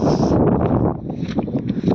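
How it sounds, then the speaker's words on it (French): Wind blows across an open pasture in short gusts, buffeting the microphone with a low, rough rumble that swells and eases over about two seconds, close and fairly loud with no talk. "il y a du vent là"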